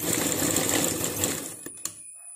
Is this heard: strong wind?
no